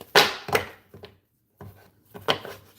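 Tarot cards are shuffled in quick bursts, several crisp riffling swishes separated by short pauses, close and fairly loud.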